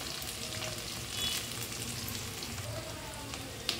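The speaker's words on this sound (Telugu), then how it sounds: "ఉల్లిగడ్డలు, పచ్చిమిర్చి దోరగా వేగిపోయినాయి." Onions and green chillies sizzle in hot oil for an okra curry, a soft steady crackle close by with small pops, no voices over it.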